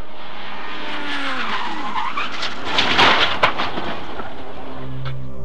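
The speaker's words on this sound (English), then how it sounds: "Without warning, the rear swerves out and the car spins uncontrollably." A mid-1990s CART Indycar loses rear grip and spins, tires skidding and squealing in a long sweeping screech that swells to a harsh peak, then fades, loud and unaccompanied.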